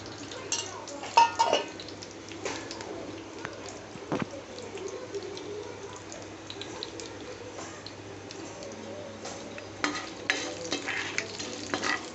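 Ingredients fry in a pan until browned, with cashews added, giving a steady low sizzle broken by scraping stirs and occasional clinks of a utensil against the pan, all moderately close.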